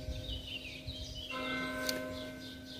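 A nearby Catholic church bell rings with steady sustained tones, moderately loud and resonant, a brighter strike landing partway through, with no talking over it.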